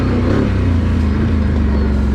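Can-Am Outlander 1000 ATV accelerating in sport mode, a loud, close, continuous engine roar with a rising rev at the start.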